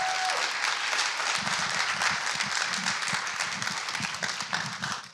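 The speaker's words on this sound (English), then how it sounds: "round of applause for our comrade Anthony" A panel-discussion audience breaks into applause, steady crowd clapping with a few sharper individual claps, holding at moderate loudness before slowly tapering off.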